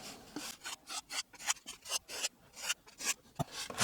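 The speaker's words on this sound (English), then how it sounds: "Just get my little sanding block for this. Just get this shaped up." Rhythmic back-and-forth rasping of a sanding block shaping wood on an electric RC plane build, close and steady, about four strokes per second.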